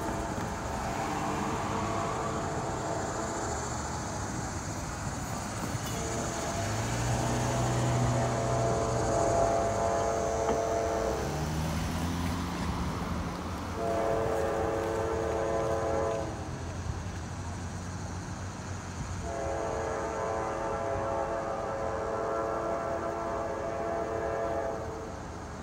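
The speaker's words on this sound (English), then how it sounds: "We got a northbound train coming through." A northbound freight train with distributed power units rumbles through downtown Eaton, Ohio, its horn sounding in repeated long blasts over the steady roar of passing cars at close range.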